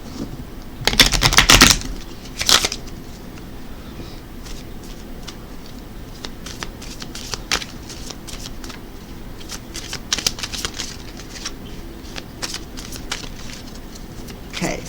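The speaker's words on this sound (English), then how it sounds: "let's go ahead and pull a final card for you, Scorpio, and this is the animal totem cards" Animal totem oracle cards shuffled and pulled by hand: a loud burst of riffling and flapping near the start, then scattered light taps and slides of cards through the rest.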